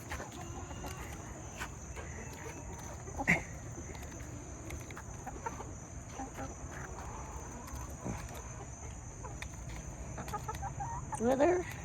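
Chickens cluck softly and intermittently while pecking at a cabbage head hung on a rope, heard at low level over a steady outdoor background with a few sharper calls near the end.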